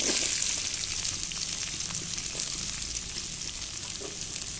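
Small chopped onion pieces fry in hot oil, a steady close crackling sizzle that stays even and moderately loud throughout, without any voices.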